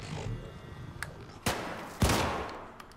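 Gunfire in the Syndicate video game, heard as a few sharp shots, the last two loud and booming, over a low background hum.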